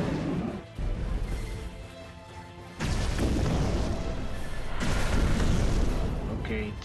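Secondary weapon fire in the Abyss Horizon mobile game, heavy booming explosions and crashing blasts that roll continuously, loud and dense, with a sharp new burst partway through.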